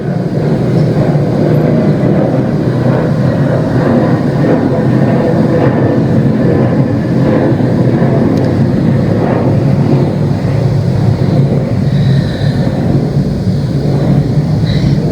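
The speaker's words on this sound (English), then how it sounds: "One moment, another plane." An airplane passes overhead, its steady, loud broadband roar filling the air without pause and unbroken by any voices.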